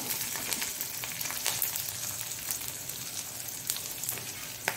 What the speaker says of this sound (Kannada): ಇನ್ನು ಈ ಎಲ್ಲ ನೋಡಿ ಸಾಸಿವೆ ಪಟ ಹೇಳ್ತಾ ಉಂಟು